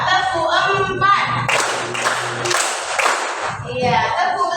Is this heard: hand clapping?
yes